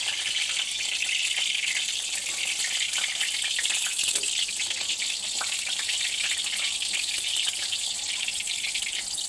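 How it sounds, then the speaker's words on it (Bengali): Two eggplants fry in hot oil in a home kitchen, giving a steady, close, loud sizzle with fine crackling and small pops that carries without pause throughout. "দেখো তেলটা গরম হয়ে গেছে, আর আমি দুটো বেগুন আগে ভেজে নিচ্ছি"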